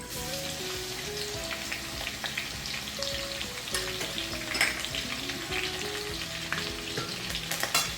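Crushed country garlic sizzles steadily in oil in a pan, a dense, continuous frying crackle with occasional stirring scrapes, close and moderately loud, while background music plays along.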